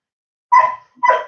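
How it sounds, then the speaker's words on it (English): A dog barks twice at close range, two loud, sharp barks about half a second apart with nothing else around them. "So the dog, he's barking."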